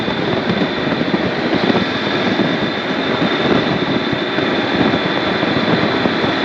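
A 2015 Honda NC700X motorcycle with a manual six-speed cruises at about 2,500 rpm, its steady engine drone blended with dense, constant wind rush, loud and unbroken with no talk.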